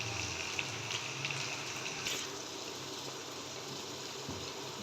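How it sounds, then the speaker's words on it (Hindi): Boiling hot water is poured into a pot of mutton trotters, giving a soft, steady gushing and splashing that carries on at moderate level throughout. "तो अभी इसमें पानी शामिल कर देते हैं"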